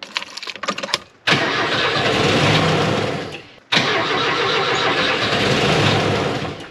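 A Lada Zhiguli engine turns over in two long cranking bursts separated by a short pause, loud and close, after a few brief clicks and knocks, never catching to run.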